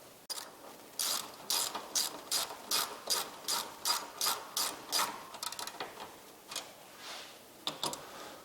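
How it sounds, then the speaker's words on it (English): Ratchet tightening fasteners on a Bestop Trektop Pro soft top for a Jeep Wrangler, about a dozen quick evenly spaced clicking bursts close up, then a few shorter irregular clicks, with no talking. "So while I'm tightening these down, I'm only going until they're snug"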